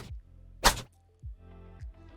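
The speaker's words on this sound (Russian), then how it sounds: "Это звук здесь переворота карты." A card flip effect designed for a game interface: a sharp bright swish-snap in the middle, framed by several soft low thumping hits, short and dry with nothing else around it.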